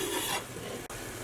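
Mince browning in a pan with crushed garlic and chopped fresh mint and parsley on low to medium heat, a steady close sizzle and scraping stir that dips briefly near the end.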